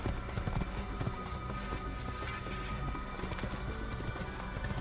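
Horse hooves galloping in the video game Assassin's Creed, a rapid continuous clip-clop rhythm over a dense, busy game soundscape, with no talking.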